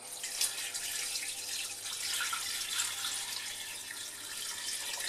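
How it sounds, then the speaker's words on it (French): Water from a tap pouring steadily into a pot of leftover chicken bones for stock, a continuous close splashing and gurgling rush with no talking. "Je vais remplir d'eau."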